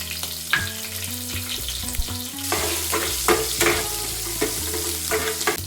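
Garlic, curry leaves and halved green chillies fry in hot oil for a tomato curry. The sizzle is loud and continuous, broken by the scrape and clatter of stirring.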